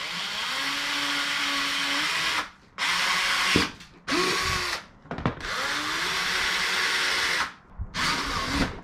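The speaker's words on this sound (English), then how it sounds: "I'm gonna drill two more holes that are just a little bit smaller in diameter" A power drill bores holes into a plate for a DIY kayak paddle clip on a Hobie Pro Angler 12. Loud, close whirring bursts with changing motor pitch are broken by short pauses between runs.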